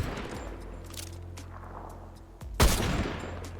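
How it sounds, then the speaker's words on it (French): Gunfire in the Fortnite video game, a steady low rumble of game noise followed by a sudden loud blast and sustained crackling shots near the end, with no talk. "Tu vas se prendre des tirs des 2 côtés."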